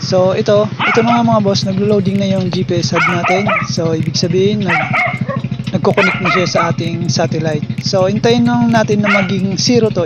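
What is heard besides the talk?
dog barking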